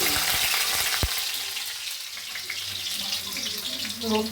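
Garlic frying in oil in a pan for veg manchurian, a loud close crackling sizzle with a sharp pop near the start, carrying on steadily.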